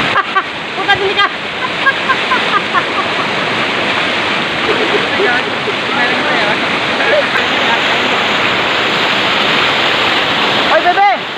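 Rushing river current and waterfall roar loud and continuous at a swimming spot, a dense steady wash of churning water throughout, with a few voices calling out faintly beneath it.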